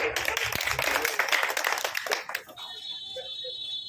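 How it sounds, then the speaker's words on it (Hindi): Crowd clapping breaks out at an Aam Aadmi Party street-corner rally in Hansi, dense and fairly loud for about two and a half seconds before fading, leaving a steady high electronic whine. "तालियां हो जाए"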